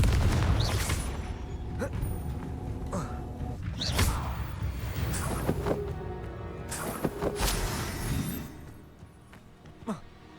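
Confringo fire-spell blasts in the Hogwarts Legacy video game: several sharp, booming bursts land at intervals over a busy, rumbling battle mix, loud and close, fading toward the end.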